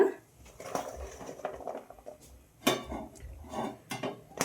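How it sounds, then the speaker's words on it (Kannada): A metal pan clanks and clinks a few times as it is set on a kitchen stove and oil goes in for okra palya, with scattered utensil knocks, fairly close and no voices. "ಇವಾಗ ಒಂದು ಪ್ಯಾನ್ ಇಟ್ಕೊಂಡಿದ್ದೀನಿ. ಸ್ವಲ್ಪ ಎಣ್ಣೆ ಹಾಕ್ಕೋತೀನಿ"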